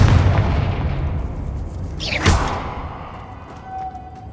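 A Confringo fire spell explodes in the video game Hogwarts Legacy: a rising whoosh builds to one loud, booming burst midway, then the rumble fades into low, steady game ambience.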